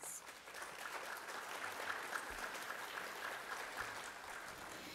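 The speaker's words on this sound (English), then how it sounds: "Let's give them a round of applause." Audience applause at a mayoral candidate debate on quality of life, a steady wash of many hands clapping throughout, moderately distant and even in level.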